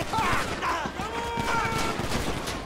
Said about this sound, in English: Look at that, gunfire's everywhere.